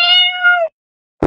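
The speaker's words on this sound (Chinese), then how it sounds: "小猫怎么叫？" A cat gives a clear, fairly loud drawn-out meow lasting about half a second, followed by near silence and a brief abrupt noise at the very end.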